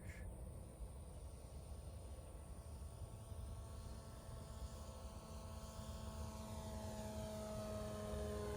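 Electric E-Flite Super Cub 25e RC airplane flying overhead, a steady propeller and motor drone that holds continuously throughout at moderate loudness, gradually growing slightly louder toward the end, with no talking.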